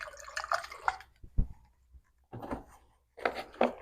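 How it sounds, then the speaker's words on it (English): Water is poured in short splashes into an RV battery cell, giving several bursts of trickling liquid separated by quiet gaps and a single sharp tap in between. "Pour a little splash in there."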